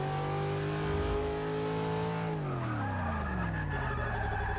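A V8-swapped Nissan S13 drifts in Forza Motorsport 6, its engine droning high and loud with tire squeal, then the revs drop and fall away in a long sliding pitch.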